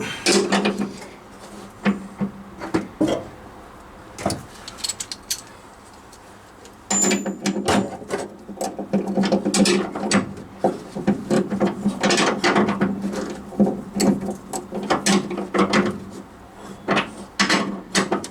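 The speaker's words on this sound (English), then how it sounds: "let's just try and pull through the socket" A ratchet socket wrench works on the rear end of a Rover P6 V8, close clicking strokes in uneven bursts with short pauses, and handling knocks in between.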